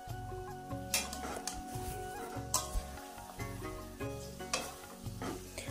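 Potatoes sizzle and fry in oily, well-cooked spice paste with tomato as a spoon stirs and scrapes the pan in repeated strokes, close and steady, with no talking.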